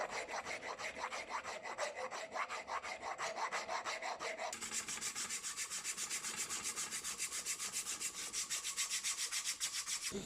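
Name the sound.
shaping a wooden hammer handle with a rasp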